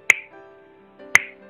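Two sharp finger snaps ring out about a second apart, each crisp, close and isolated, with a faint soft hum in between.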